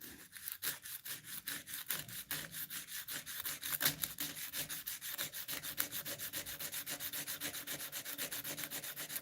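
Wood is hand-sanded with coarse 80 grit sandpaper in quick, even back-and-forth strokes, a close rhythmic scratchy rasp that keeps a steady pace throughout.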